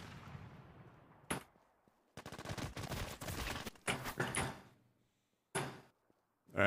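Heavy-recoil video game gunfire, arriving as loud, dense bursts and separate sharp single blasts with near-silent gaps between them. The shots sit close and dry, with no voices.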